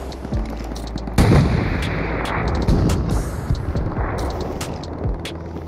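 Shooter video game gunfire: rapid repeated shots, near and loud, with sharp cracks over a dense rumbling, explosive bed that lasts throughout.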